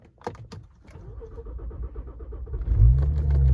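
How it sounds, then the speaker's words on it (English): A car's engine starts up after a few faint clicks and handling noises, catching and settling into a low, steady idle rumble that gets louder toward the end. "So now I'm gonna start up the engine."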